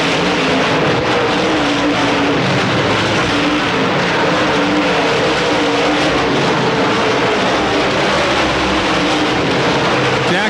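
Dirt track race cars roar under power at a 1995 DTWC feature, a dense, steady engine wall of sound from the field coming out of the final turn, loud and continuous throughout.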